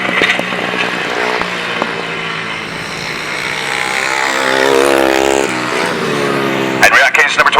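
Grasstrack racing motorcycles roar along the back straight on a last lap, engines droning loud and continuous with a rising pass, under an excited announcer's commentary.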